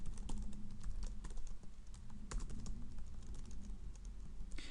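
Steady, rapid typing on a computer keyboard, with a dense run of close, crisp key clicks and no talking.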